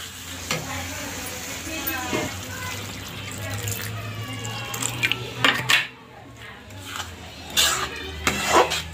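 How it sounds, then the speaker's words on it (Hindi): Water poured into masala frying in a pan for a matar mushroom curry, giving a loud hiss and sizzle with spoon stirring and scraping against the pan, plus a few sharp clatters near the end. "थोड़ा सा पानी डालेंगे मसाला भूनने के लिए।"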